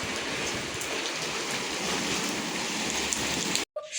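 Heavy rain pours down steadily in a dense, loud roar of drops on surfaces near a house where rainwater is flowing inside, continuous until it cuts out abruptly near the end.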